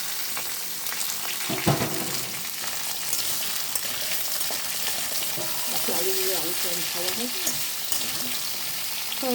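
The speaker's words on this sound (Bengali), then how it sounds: "এবার চলে যাচ্ছে কুমড়ো, এবার চলে যাচ্ছে লঙ্কা, কাঁচা লঙ্কা।" Pumpkin, potato and green chillies fry in a hot pan for kolmi sag chochhori, a loud continuous sizzle broken by clatters and scrapes of stirring, heard up close.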